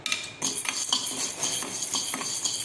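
Garlic dry-roasting and being stirred in a small kadai over a low flame, with repeated metallic scrapes and clinks of a spoon against the pan in a steady, close, fairly loud rhythm.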